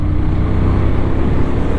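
Steady, loud engine drone from a CF Moto 450 CL-C motorcycle while riding, constant and rumbling with no speech.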